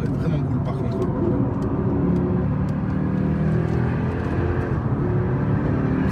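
A Lexus IS F V8 sedan on the Nürburgring circuit, its engine a steady loud rumble with road and wind roar throughout, heard from inside the car, with someone talking over it.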